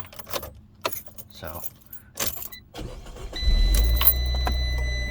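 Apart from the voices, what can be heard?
keys and Fiat 500 1.4 engine starting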